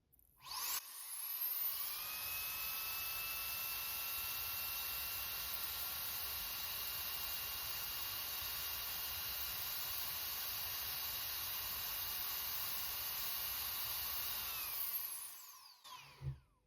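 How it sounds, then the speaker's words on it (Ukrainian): A homemade battery-powered DIY turbo blower fan spins up quickly and runs at full power, a loud, steady high-pitched whine and airy hiss that holds for about fourteen seconds before winding down, with no speech. "Увімкнув кліщі, вмикаю на максимум."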